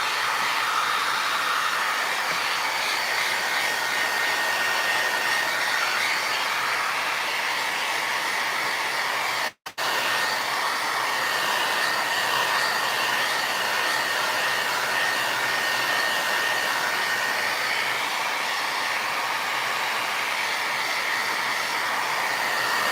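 Hair dryer blowing on a wet furniture finish, a steady loud whooshing drone with a high whine, briefly cut off for a moment midway before resuming unchanged.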